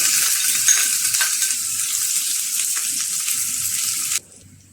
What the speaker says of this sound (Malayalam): ഒരു ടീസ്പൂണ് നെയ്യ് ഒഴിച്ചു കൊടുക്കാം നാലുള്ളി കട്ട് ചെയ്ത് വെച്ചിരുന്ന് അത് കൊടുക്കുന്നുണ്ട്